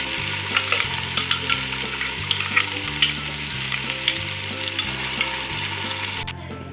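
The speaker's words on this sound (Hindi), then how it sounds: "ये मैंने टमाटर और प्याज और लहसुन का जो पेस्ट बनाया था वो मैंने डाल दिया है।" Thick onion, tomato and garlic paste frying in hot oil for chicken korma, a loud, dense, continuous sizzle with regular rhythmic stirring knocks and no voices.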